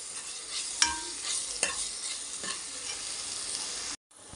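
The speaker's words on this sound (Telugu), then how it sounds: "ఇప్పుడు ఒక 1/2 స్పూను అల్లం వెల్లుల్లి పేస్ట్ వేసి వేయించుదాం." Ginger garlic paste frying with onions in hot oil, a steady close sizzle with a few sharp clicks of a spoon stirring, cutting off abruptly near the end.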